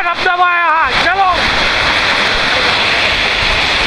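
Bhaje waterfall near Lonavala, heard as a loud, constant broadband rush of falling water, close up; a voice talks briefly at the start before the roar continues alone.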